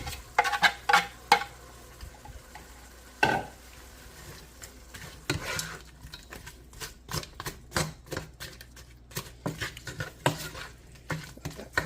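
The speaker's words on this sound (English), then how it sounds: "And saute up a little bit more" Mushrooms, onions and frozen vegetables sauté in a pan, with a soft sizzle under repeated clattering scrapes and taps of a utensil against the pan, close and irregular, with no talking.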